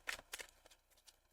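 A deck of tarot cards being shuffled, giving a few quick, soft riffling bursts close to the listener with faint quiet between them.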